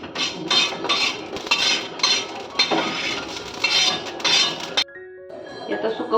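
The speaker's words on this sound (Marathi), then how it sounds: "बारीक गॅसवरच तीळ भाजायचे" Sesame seeds roasting in a pan over a low gas flame for Kolhapuri chicken rassa, with rhythmic clinking and scraping of a utensil against the pan, close and fairly loud, before it stops and a softer sound follows.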